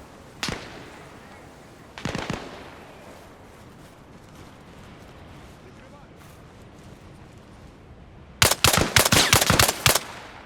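Sniper rifle fire in the military video game ARMA Reforger: two single sharp shots a couple of seconds apart, then a rapid burst of loud cracks near the end, with a person talking over the game.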